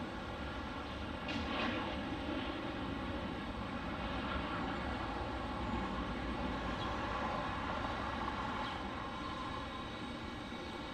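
An Icelandair delivery jet at Detroit airport gives a distant, steady engine rumble and whine. The sound holds at an even, moderate level throughout.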